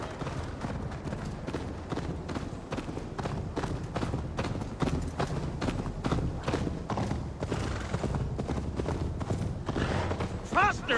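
Rapid rhythmic hoofbeats of a galloping horse in the video game Assassin's Creed Valhalla, with voices talking over the pounding and a brief whinny near the end.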